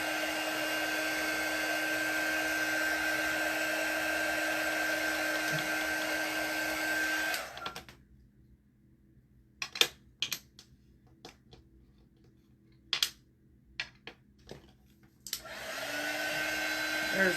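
A hair dryer blows at a steady, loud whir while drying a craft snowman. It cuts off abruptly, leaving a quiet stretch with a few light clicks and taps, then it starts whirring again near the end.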